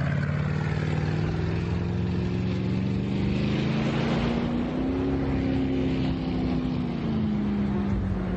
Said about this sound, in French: ils ont envoyé un hélicoptère qui nous poursuit